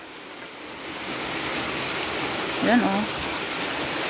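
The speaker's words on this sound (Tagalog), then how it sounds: "Ang lakas ng ulan." Heavy rain pours down steadily as a broad, continuous hiss across the whole span, with a brief spoken exclamation rising over it near the end.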